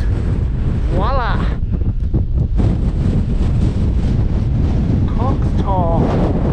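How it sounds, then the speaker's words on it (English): Strong gusty wind buffets the microphone at the top of Cox Tor on Dartmoor, a loud continuous roar throughout, with a person talking briefly over it. "And it's super windy."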